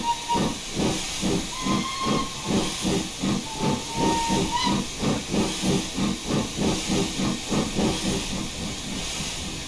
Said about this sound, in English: Control space will play a different whistle tune